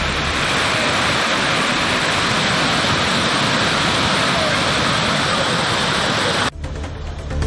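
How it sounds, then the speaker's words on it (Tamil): Floodwater roaring down the Thirparappu waterfall on the Kodayar river after heavy rain, a dense, loud and unbroken rushing roar that stays steady throughout before shifting abruptly near the end. "கனமழையின் காரணமாக கோதையாற்றில் வெள்ளப்பெருக்கு ஏற்பட்டு திருப்பரப்பு அருவியில் தண்ணீர் ஆர்ப்பரித்து கொட்டியது"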